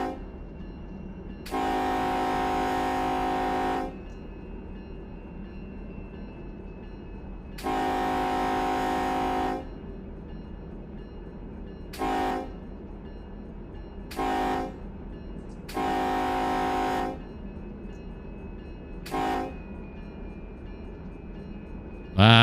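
A diesel locomotive horn in the Run 8 Train Simulator game blows a grade-crossing pattern: two long blasts, a short toot, another short one, a long blast and a final short toot, loud over a low rumbling engine.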